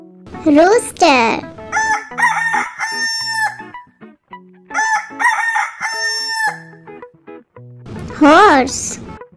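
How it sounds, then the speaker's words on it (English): A rooster crows loudly at the start and again near the end, with a bouncy melodic backing playing between the calls in a children's animal sounds song. "Rooster."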